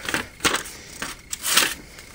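A Wetterlings axe blade slices through paper in a series of crisp, rustling swishes and crackles, several close strokes in quick succession with no talking.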